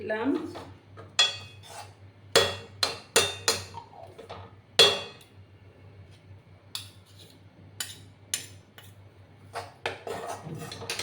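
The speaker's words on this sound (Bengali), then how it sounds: "আমি আবার মিক্স করে দিচ্ছি" Roasted atta flour and an added spoonful of ghee being stirred together in a pan, making sharp irregular clinks and scrapes of the utensil against metal, close by, with softer rubbing between the strikes.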